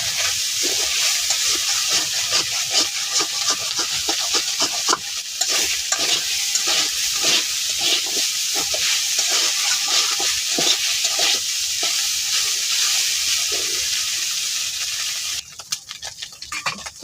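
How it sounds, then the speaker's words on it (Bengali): Small mola fish frying slowly in a home-cooked pan fry with onions, a steady close sizzle with repeated stirring scrapes throughout, no talk. "মলা মাছটা আস্তে আস্তে বাজি নিতেছি"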